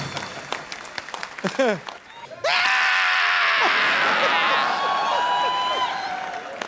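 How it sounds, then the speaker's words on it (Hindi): Loud studio audience applause with cheering and whoops on a comedy talk show set, breaking out suddenly after a few seconds of quieter voices and holding steady and dense to the end. "जोरदार तालियां नरगिस के लिए"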